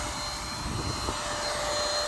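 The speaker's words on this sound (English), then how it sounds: "And this is just a cheap vacuum I got off of Amazon." A cheap off-brand cordless vacuum running on a DeWalt battery, used outdoors in a garden to remove pests, gives a steady, unbroken whirring drone throughout, with no talking.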